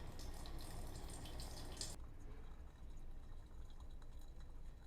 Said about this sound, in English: The cold water we poured in the tank is being heated up. You can hear it.